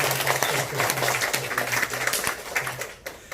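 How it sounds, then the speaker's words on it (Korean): Applause rises from a church congregation marking its eighth anniversary service, and rhythmic clapping mixes with a voice and sustained tones, loud and close throughout before easing near the end. "우리 박수 한번 영광 돌리겠습니다"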